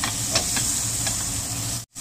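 Silver cod pan-frying in oil, a steady close hiss and sizzle with a few faint clicks, cutting off abruptly just before the end.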